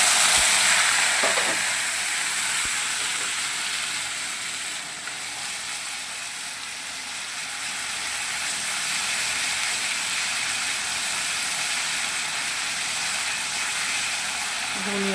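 Ginger paste, onion and ground turmeric, chili and cumin frying for ghugni make a loud, steady sizzle close by, with a brief clatter near the start and no voices.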